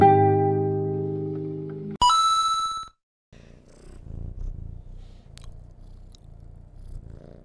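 A cat purrs in steady, close, low pulses during playback, after a sustained electronic tone and a bright ding followed by a brief silence.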